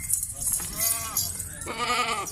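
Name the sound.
goats bleating on a farm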